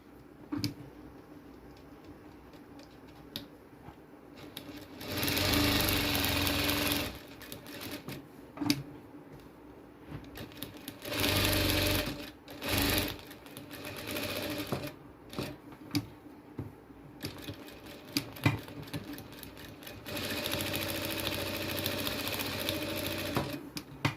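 A sewing machine stitches a fabric flower latkan in short bursts, rapid mechanical clatter starting and stopping with quiet pauses between runs, close and clear.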